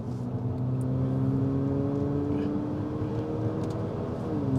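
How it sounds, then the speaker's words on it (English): Exhaust drone of a 2022 Haval H6 GT SUV with a 150 kW engine, a steady, moderately loud engine tone heard from inside the car, rising slightly in pitch as it pulls. "But that exhaust is just, oh, delicious."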